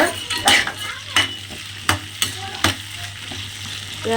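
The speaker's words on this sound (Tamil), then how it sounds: "ஸ்டவ் வந்துட்டு இப்போ ஹையில் வச்சுக்கிட்டு நல்லா வதக்கி விடுங்க." Shallots sauté over a high flame for a mutton kulambu, a steady sizzle broken by several sharp, close clanks of a spoon stirring against the pan.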